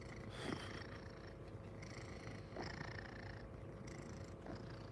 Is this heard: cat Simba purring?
yes